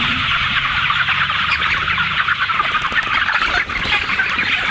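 A large flock of about 600 chickens clucks together in a coop on green grass, a loud, constant chorus of overlapping calls with no break.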